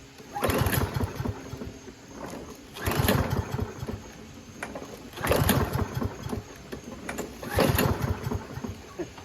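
Toro Recycler lawn mower with a Kohler XT675 engine that struggles to start and stalls, surging loudly in four repeated bursts that each sag back to a rough, uneven idle, close by with no talk.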